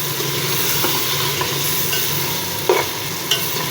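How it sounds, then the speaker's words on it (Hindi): Masala for turnip and meat curry is stir-fried in a pot, giving a steady loud sizzle and frying hiss throughout, with a few soft scraping stirs of the spoon against the pot. "ये देखें मसाला कितनी अच्छी से भून चुका है, मसाला सारा इसका।"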